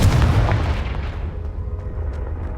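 Confringo spell blast in Hogwarts Legacy, a heavy booming explosion at the start that rolls off into a long fading rumble with scattered debris crackles.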